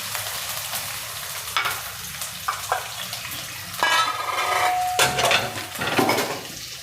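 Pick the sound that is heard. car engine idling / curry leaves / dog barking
curry leaves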